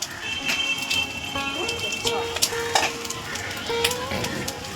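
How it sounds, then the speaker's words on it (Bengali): An egg frying in a pan while gravy chowmein is being made at home, a low steady sizzle with occasional clinks of a utensil, partly under voices and other household sounds. "ডিমটা ভাজা করে নিচ্ছি"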